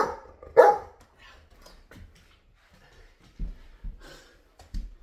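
A dog gives a couple of sharp barks and a few softer yips and whimpers indoors, separated by quiet gaps.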